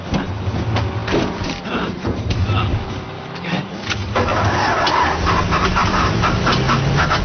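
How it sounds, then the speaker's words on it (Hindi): A car engine cranking but failing to start in a Hollywood movie scene, with repeated whirring starter bursts that stop, pause briefly and resume without catching, mixed with tense dialogue. "इंजन भर गया सर, शुरू नहीं हो रही है।"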